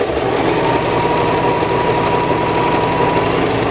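A sewing machine running steadily through a zigzag stitch on a fairly large patchwork piece, giving a constant close mechanical whir and rattle with no pauses and no voices.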